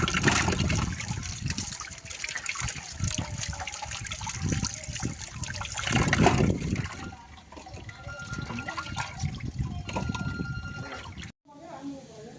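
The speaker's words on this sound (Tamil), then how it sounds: "கழுவி கிழங்கு உரிச்சாச்சு, கழுவி எடுத்துக்கலாம்." Peeled tubers are washed by hand in water in a home kitchen, with loud, close splashing and sloshing that swells and fades before cutting off briefly near the end.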